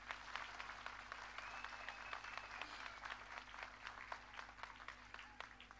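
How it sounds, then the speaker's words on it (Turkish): Audience applause at a municipal opening and groundbreaking ceremony in Kula, a steady, moderately faint patter of many hands clapping throughout, with a low steady hum beneath and a faint tonal whistle drifting through the middle. "Hepinizden kuvvetli bir alkış istiyorum."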